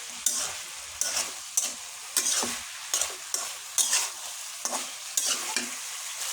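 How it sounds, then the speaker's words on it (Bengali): Vegetables being stirred and sautéed in a pan, a spatula scraping in regular strokes about once a second over a low background sizzle, close and clear with no voices. "আমার সবজিটা কষানো হয়ে গেছে"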